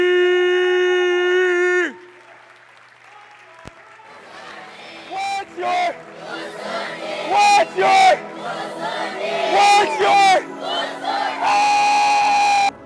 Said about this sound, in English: go ahead and give a round of applause for my man